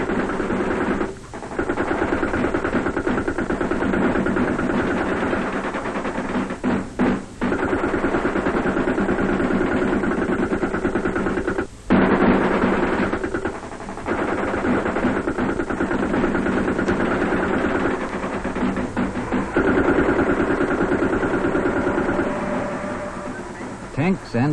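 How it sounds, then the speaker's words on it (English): Tanks and armoured personnel carriers giving covering fire during a village advance, with steady engine rumble and repeated machine-gun bursts sounding close and continuous throughout, punctuated by short pauses and sharper reports. "Tanks and APCs may move right into a village and give covering fire when called upon."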